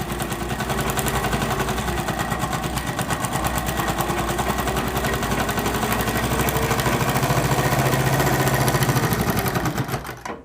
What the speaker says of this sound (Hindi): हमने ऐसे रख के पहले सिलाई चला दी।